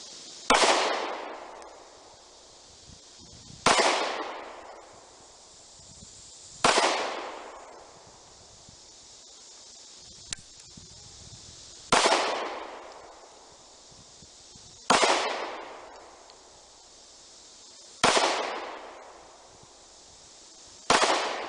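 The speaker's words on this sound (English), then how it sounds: "Let's see how she fires." Six sharp gunshots from a KelTec P11 9mm pistol firing steel-cased ammunition at an outdoor range, spaced roughly three seconds apart, each a loud crack with a long decaying echo and no talking.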